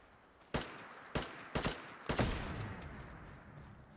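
An automated turret in Fallout 4 fires four sharp, loud gunshots at uneven intervals, each followed by a decaying echo that hangs in the air after the last shot.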